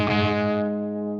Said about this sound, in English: So let's bring the distortion down. As you bring it down, you get a lot less gain.